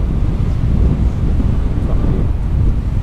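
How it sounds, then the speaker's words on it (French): Cold wind gusts steadily across the Col Saint-Jurs mountain pass at 1318 metres in the Verdon area, a loud, continuous low roar of air buffeting the microphone with no break or talk. "Et il y a toujours ce vent de qui est gelé comme tout."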